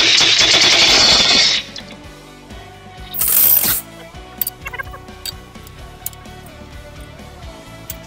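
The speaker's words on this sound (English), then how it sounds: "with the impact gun." An impact gun rattles off 19 mm bolts during a front coilover and rear five-lug axle install, firing in two loud bursts separated by a pause, followed by quieter clinks of metal.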